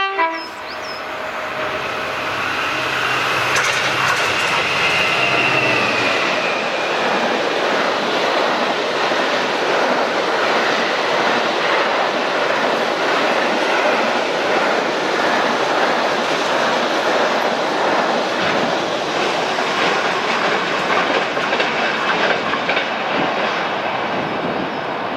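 Direct Rail Services freight train hauled by Class 66 locomotive 66428 passes close at Greenfaulds, Scotland. A horn sounds at the start, then a loud, sustained roar of the engine and wagons continues with rhythmic wheel clatter.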